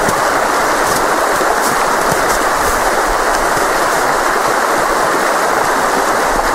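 The Sørelven river in full spring thaw roars loud and continuous, a dense close rush of fast-flowing water with no voices.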